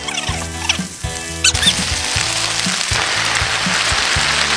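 Marinated duck tongues frying with celery, shallots, ginger and garlic, giving a loud, crackling sizzle with a few sharp clatters as ingredients hit the pan.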